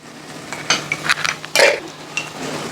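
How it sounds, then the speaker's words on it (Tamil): Mutton masala with chilli, coriander and cumin powders being stirred in a pan, a few short clinking and scraping strokes over a faint sizzle, close up with no talking. "இது எல்லாத்தையும் நல்லா மிக்ஸ் பண்ணிக்கலாம்."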